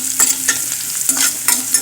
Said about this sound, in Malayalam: ഞാൻ ഇച്ചിരി കടുകും ഉലുവയും കൂടി ഇട്ട് ആദ്യമേ കടുക് പൊട്ടിക്കും കേട്ടോ